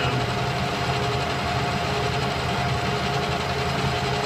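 A metal lathe turning at 715 RPM while a change gear is being repaired gives off a steady, continuous mechanical hum and whir with a faint vibrating rattle. The sound holds at an even level throughout, close by, with no talk.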